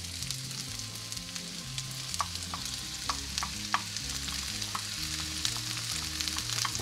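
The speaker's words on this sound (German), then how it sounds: "In dem restlichen Bratenfett kommen jetzt unsere Zwiebeln rein." Onions fry in leftover meat drippings for a white-wine onion stew, a steady close sizzle with scattered crackles and light stirring taps throughout.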